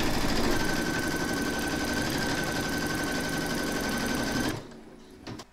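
Embroidery machine stitching the placement outline for a large cross appliqué, a steady fast mechanical whir and needle chatter running alone for about four and a half seconds before stopping, leaving faint clicks.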